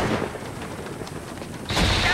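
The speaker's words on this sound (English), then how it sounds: "I'm hearing a lot of gunfire." Gunfire in the Vietnam War video game Shellshock: Nam '67 on PS2, a dense wash of continuous shots rattling throughout at steady loudness, growing louder and brighter near the end, with no talk over it.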